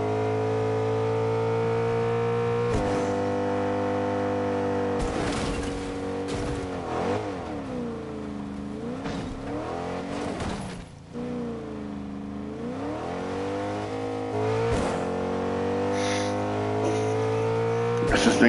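A car engine in a video game drones with a steady harmonic hum, swooping up and down in pitch as it revs and eases off, loud and continuous throughout.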